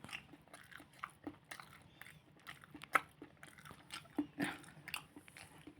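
Roasted tomato being eaten up close, with quiet, irregular soft bites and wet chewing sounds in a still room, plus a few small clicks and a faint murmur of voices.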